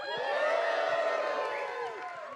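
An audience at a conference closing ceremony cheers and whoops in a loud, sustained burst of crowd noise that tapers off slightly toward the end.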